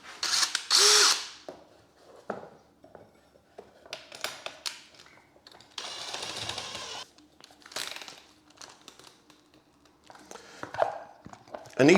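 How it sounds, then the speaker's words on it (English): A power drill spins up in short bursts, with one longer grinding stretch as a hole saw bites in to cut a downlight hole, separated by clicks and handling noises. "So that basically goes on there like that. My drill would help."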